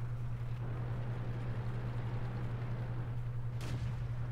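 A single sharp tank gun shot from an M18 Hellcat in World of Tanks cracks out near the end, over a steady low engine hum that runs throughout.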